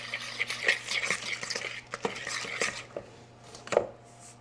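Dry ingredients being mixed into cookie batter in a bowl, with a run of uneven scraping and tapping knocks that grow sparser toward the end, close by and fairly quiet, with no voice.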